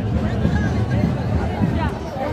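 Dense babble of a large pilgrim crowd at the Ekveera palkhi festival on a hillside, a steady murmur of many voices with a nearby speaker talking over it.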